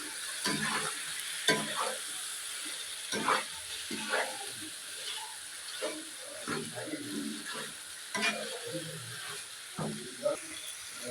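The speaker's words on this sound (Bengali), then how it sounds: "গোস্তটা মশলাটা আমার কষাই হয়ে গেছে, আমি গোস্তটা দিয়ে ফেলাম।" Meat fries in a pan of cooked-down spice paste with a steady sizzle, while repeated scraping stirs and clatters of the utensil recur throughout.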